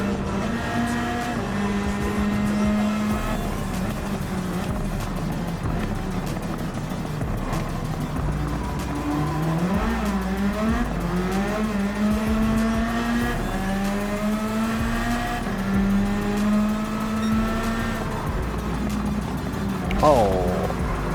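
A 1997 Toyota Supra GT500 race car in Gran Turismo 7 brakes hard, its engine pitch sweeping down and back up through gear changes, droning steadily beneath someone talking throughout.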